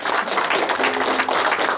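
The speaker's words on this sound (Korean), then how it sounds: "박수로 마치겠습니다." Brief, steady applause from an audience closes a traditional coming-of-age ceremony at a Korean cultural center, dense and fairly loud throughout.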